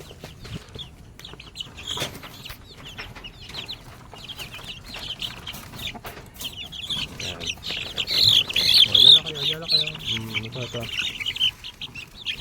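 Three-week-old Rhode Island Red chicks peep and cheep steadily at feeding time, a dense chorus of high chirps that grows louder and busier toward the end, with a person talking now and then underneath.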